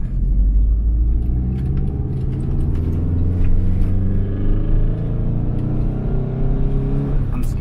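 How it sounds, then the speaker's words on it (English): A Subaru Impreza GC8 RS Ti with an engine fault on a test drive, heard from inside the cabin as a steady, loud, droning engine rumble with harmonics rising and falling as it accelerates, plus faint occasional clicks. "let's go for a quick test drive"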